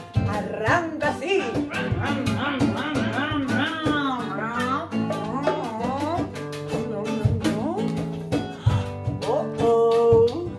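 Someone vocally mimics a car engine starting, with sputtering, revving voice sounds over an accompanying song at a children's reading festival performance, loud and continuous throughout.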